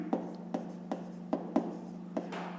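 A pen writes on paper for a fifth-grade math exercise, giving a series of short, faint scratching strokes at an uneven rhythm against a quiet steady hum.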